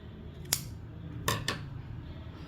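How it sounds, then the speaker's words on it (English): Scissors snip excess yarn from a crocheted waffle stitch sweater dress, three quick close cuts in a quiet room, one alone and then two in fast succession. "then you cut off the excess yarn"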